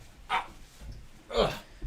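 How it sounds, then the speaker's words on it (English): A new, somewhat skittish dog gives two short barks about a second apart, close and moderately loud, with people talking softly around it. "All right, so this is the new dog."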